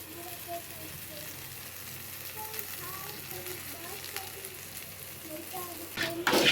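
Ingredients for a field crab gravy sautéing in a pan, giving a steady soft sizzle and frying hiss throughout, quiet and close, with faint tonal background sounds and a brief louder rustle near the end.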